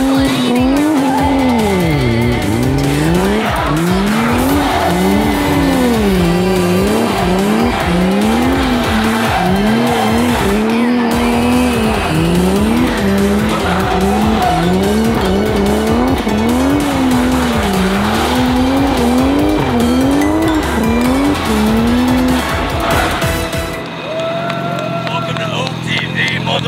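Car drifting through repeated slides, tires squealing in long wavering wails over a loud engine that revs up and down for over twenty seconds, with voices talking underneath at times.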